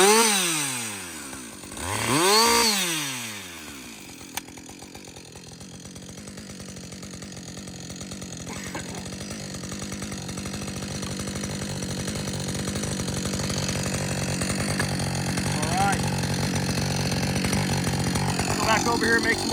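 A repaired chainsaw that previously would not run, started and revved loudly with rising and falling pitch, then running steadily and cutting wood in a continuous drone; a voice speaks briefly.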